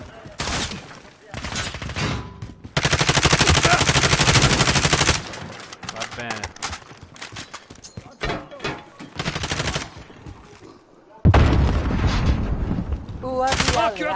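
Rapid bursts of automatic gunfire from Call of Duty: Modern Warfare, loud and close, with sustained fusillades broken by short pauses and a voice talking briefly between volleys.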